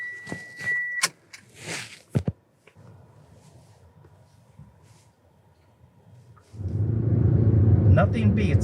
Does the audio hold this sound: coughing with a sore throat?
no